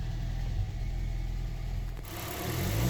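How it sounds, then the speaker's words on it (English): A car engine rumbles at a low, steady idle close by after the car is backed out of a garage, with a slight rise in revs toward the end. "Awakening from his slumber, the beast is sounding good"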